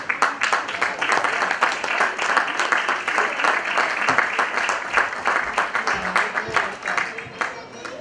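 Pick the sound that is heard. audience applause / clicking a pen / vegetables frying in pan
audience applause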